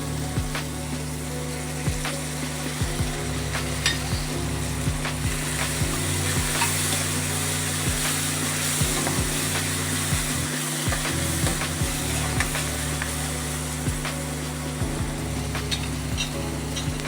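Chopped tomato frying with green chillies in a pan for vaghareli rotli, a loud steady sizzle that runs throughout, punctuated by regular stirring scrapes close by, with no voices.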